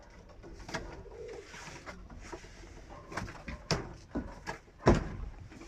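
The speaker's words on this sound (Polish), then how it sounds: "Także kochani, jest tych gołębi." Pigeons coo in short, soft bursts at a breeding loft, with intermittent sharper knocks and rustles like a door sliding, all fairly close and fairly quiet, with no one talking.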